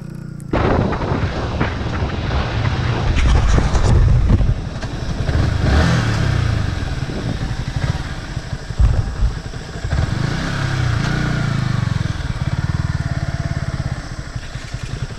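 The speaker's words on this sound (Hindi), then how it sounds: "यहाँ पर ड्रैग रेस पिकअप के लिए वीडियो बनाया जा रहा है" A Yamaha R15 V3 and a KTM RC 200, both BS6, launch in a drag race with loud, close engine roars and rising revs, then a sustained high-revving drone as the bikes accelerate, filling the whole stretch with no talk.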